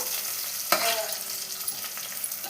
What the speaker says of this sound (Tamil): கொத்தமல்லி சேர்த்து வதக்கிக்கங்க, நல்லா வாசனையாக இருக்கும்.